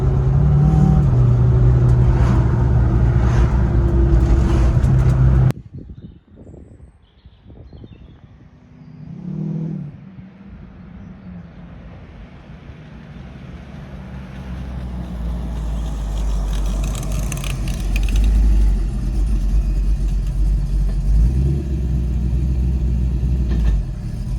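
A car engine at full throttle roars loud and close, cuts off abruptly, then builds back up from a low rumble into a steady, heavy drone.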